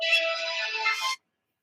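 A mobile phone rings with a steady electronic ringtone, bright and close, lasting about a second before cutting off abruptly into silence.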